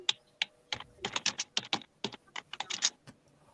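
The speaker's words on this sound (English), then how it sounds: "We're typing." Rapid typing on a computer keyboard, a close, loud run of irregular clicking keystrokes in quick bursts with short pauses, no voices.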